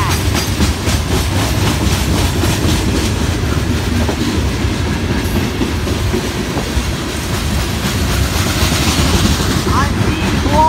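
FEC freight train 206 rolls past close by at Stuart with a loud, steady rumble of wheels and rhythmic clickety-clack. Wind buffets the recording, and a voice is heard faintly under the noise.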